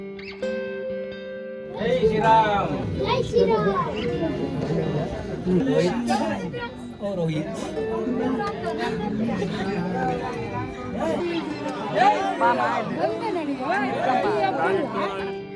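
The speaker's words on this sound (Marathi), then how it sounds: "तशी फारच गर्दी इथे पाहायला मिळत होती" Crowd chatter at a hilltop Hanuman temple in Hampi, reached by hundreds of steps: many overlapping voices talking nearby in a busy, continuous babble, with some louder individual voices standing out.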